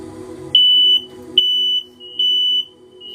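A fire alarm sounds in sharp, piercing electronic beeps, three long tones with short gaps, loud and close over a low background hum.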